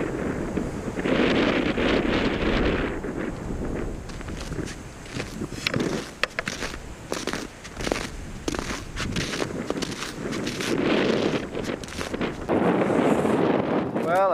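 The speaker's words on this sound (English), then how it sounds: "That's a cold, biting wind." A cold, biting wind blows across the hills of Labrador, roaring steadily into the microphone in loud buffeting gusts that rise and fall for the whole stretch.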